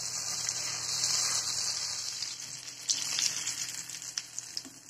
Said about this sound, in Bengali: চিকেনটা এক সাইডে প্রায় হয়ে এসেছে, আমি এখন উল্টিয়ে দিব